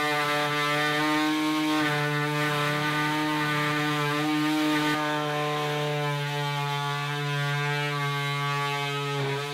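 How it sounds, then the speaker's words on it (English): Cubit one gang box saw attachment cuts a box hole in a wall, running as a loud, steady, strongly tonal power-tool drone with a low hum, slight pitch wavering throughout, and no talk. "So this is a one gang box saw attachment by Cubit."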